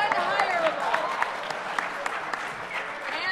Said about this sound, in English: Okay, so you guys all are clapping